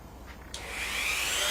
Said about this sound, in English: pre-drill this plywood with one hole right in the middle of that line